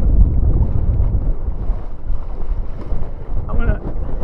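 Strong wind rumbles and buffets the microphone during a wing foiling session on open water, a loud low roar with splashing waves and a brief voice near the end.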